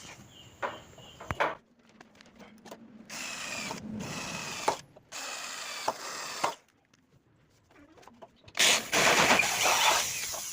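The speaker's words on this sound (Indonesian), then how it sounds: "setelah kita lubangi menggunakan mata bor 8 ya" A power drill with an 8 mm bit whirs through aluminium in several bursts separated by pauses, with clattering handling noises between them.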